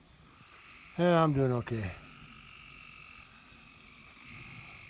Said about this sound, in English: Bunch of tree frogs are chirping.